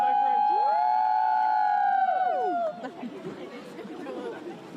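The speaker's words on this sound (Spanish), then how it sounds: "Me encantan los niños que gritan." A group of children shouting together in sustained, high, overlapping cries that break off abruptly, followed by quieter chatter and murmuring voices.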